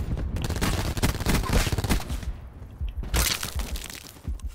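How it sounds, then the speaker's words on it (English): Video-game gunfire crackles in dense, rapid bursts of overlapping shots, fairly close and loud, with a short lull before another heavy volley and a few scattered shots at the end. "Shoot him, Bruce."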